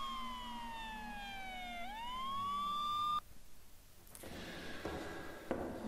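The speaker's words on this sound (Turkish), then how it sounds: "Ambulans sesleri geliyor" Ambulance sirens wail inside a Minecraft horror map, a smooth rising and falling tone that cuts off sharply partway, followed by faint scattered game noises.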